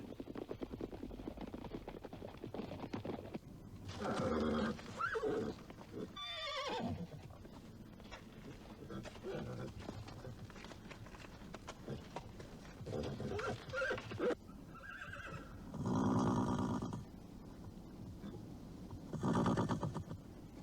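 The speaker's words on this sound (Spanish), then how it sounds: "los antepasados del caballo de hoy día galoparon de América a Eurasia" Horses neigh repeatedly in loud, separate whinnies over a rough, low background of movement and hoof noise, with several calls spread across the stretch and nobody speaking.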